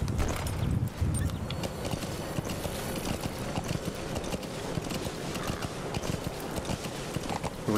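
Hoofbeats of a ridden horse in Metal Gear Solid 5 pound along in a fast, steady rhythm, loud and close, with creaking tack and a dense wash of outdoor ambience.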